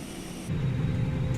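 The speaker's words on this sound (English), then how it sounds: "Hear the pack spool up." Airflow from an Airbus APU bleed air pack spooling up in a flight simulator cockpit, a steady low rushing roar that swells partway through and holds at a louder level.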